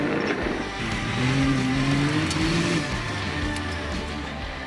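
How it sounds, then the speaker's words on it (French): A Can-Am Maverick X3 side-by-side with a mid-mounted turbocharged liquid-cooled Rotax inline three-cylinder runs with a breathy engine tone that rises in pitch and then falls back, heard alone at close range. "avec un bruit de moteur qui souffle et qui est très sympathique"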